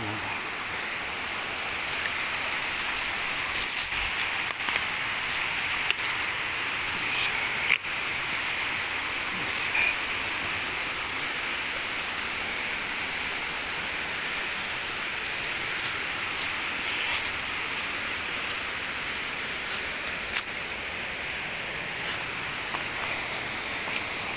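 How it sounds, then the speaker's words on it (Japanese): Deai waterfall at Takada in Shingu, Kumano, a steady broadband rush of falling water roaring continuously and evenly throughout, with no voices over it. "これがやっぱり出会いの滝だ"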